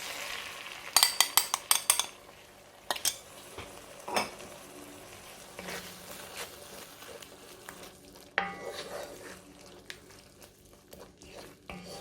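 Lamb curry base frying in a pan as curry powder goes in, with a few sharp clinks and scrapes of stirring up front, then a soft steady sizzle and occasional utensil taps against the pan.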